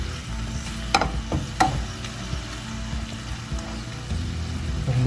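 Onion powder being stirred into a hot frying pan, a steady close sizzle broken by a few sharp scrapes and taps of the utensil, with no talk.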